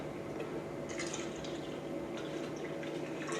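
Tap water pours onto a tea bag in a steady, soft trickle, with light splashing and dripping throughout and no talking.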